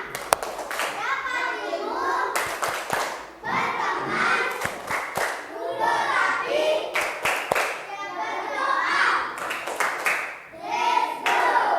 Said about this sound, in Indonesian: Mana tepuk pulangnya? Mana tepuk pulang?